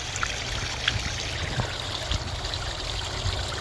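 Aquarium water slowly draining out during a water change, a continuous soft trickling and gurgling flow with occasional small splashes, steady and close, with no talk.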